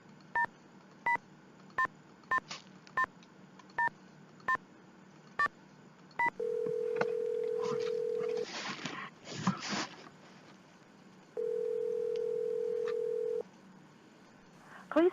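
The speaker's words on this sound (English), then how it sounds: "Nancy can make a phone call on Dwayne's phone" Telephone keypad dialing in a Nancy Drew point-and-click mystery game: a run of evenly spaced DTMF key tones, then two long steady beeping tones separated by faint noise, clear and close.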